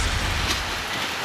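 Heavy rain from Typhoon Inday falls as a dense, steady hiss with a low rumbling undertone, close and continuous, with no voices.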